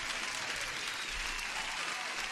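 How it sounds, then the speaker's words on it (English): Applause from an audience rises as a continuous, dense wash of clapping, steady and fairly loud for the whole moment, with no voices over it. "let me give a proper applause to Sahid."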